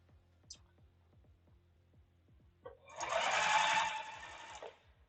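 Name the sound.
sewing machine running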